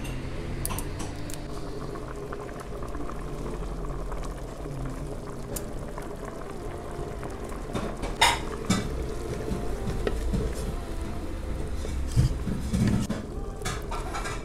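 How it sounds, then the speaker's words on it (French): Cardamom seeds going into a simmering pot while cooking an Egyptian dish, with bubbling and stirring throughout, small clinks and light taps around the middle and later, fairly quiet and close with no talk. "Je vais ajouter les graines de cardamome"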